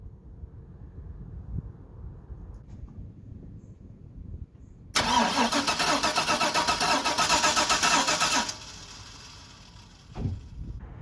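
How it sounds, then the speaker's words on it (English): A car engine cranks on its starter motor for about three and a half seconds with a loud, rapid whirring churn, then cuts off, leaving a quieter low rumble before and after. "When I'm cranking my engine"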